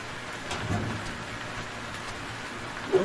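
Rain falls in the survival game Stranded Deep, a low, steady hiss of drops with a faint distant rumble beneath it, fairly quiet throughout.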